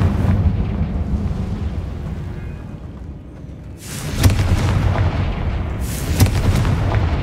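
Booming blasts from the Confringo spell in Hogwarts Legacy, a dense, heavy roar that swells twice with sharp cracking impacts, loud and close over a rumbling game background.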